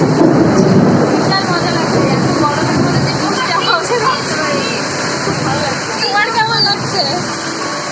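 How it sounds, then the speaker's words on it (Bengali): Steady heavy rain pours in a constant broad wash, loud and close, with people talking over it throughout. "কেমন লাগছে বৃষ্টি পেয়ে"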